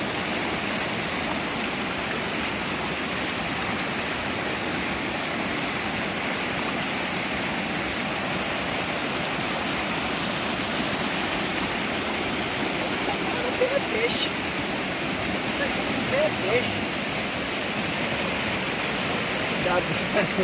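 River water runs over slippery, slime-coated rocks in the Ipojuca river at Gravatá, a steady, even babble and rush that stays close and moderately loud for the whole stretch.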